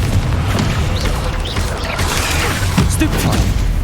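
Confringo spell blasts from Hogwarts Legacy combat, dense booming explosions and rumbling impacts filling the whole stretch, loud and continuous with crackling bursts on top.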